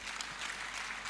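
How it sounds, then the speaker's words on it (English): Brief burst of audience applause at a women and girls summit in 2014, a steady broadband patter of clapping hands filling the hall at moderate level, with no talk over it. "Please, let's give them a round of applause."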